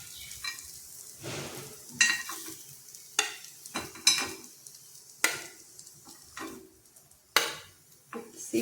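Snack batter fries in a paniyaram pan with a steady sizzle, broken by repeated sharp scraping and clinking as the pieces are stirred and turned, close and fairly loud with no talk.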